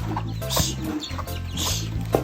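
Chickens cluck on and off nearby, with a few sharper squawks over a low background hum.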